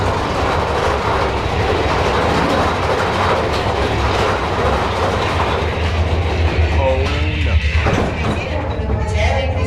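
A Walt Disney World Railroad train at Magic Kingdom rumbles steadily along the tracks with rhythmic clickety-clack, a continuous close ride with faint voices appearing near the end.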